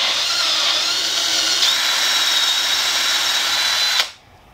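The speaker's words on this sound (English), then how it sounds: "I'm going to take a number 6 drill bit and just drill it through." A power drill with a number 6 bit whines steadily at high pitch, boring through a metal camera mount for several seconds before cutting off abruptly.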